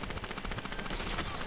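A rapid stream of sharp crackling shots from a Tron laser weapon in a shooter game, fast repeated bursts throughout, loud and close with a brief zipping whine midway.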